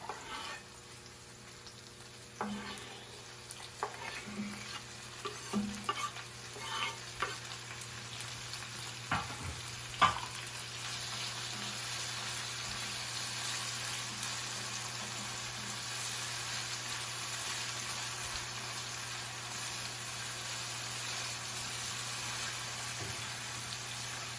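Tomatoes and spicy green pepper dropped into a hot pot for a one-pot chicken and rice dish, a few thuds and stirring clinks, then a steady moderate sizzle.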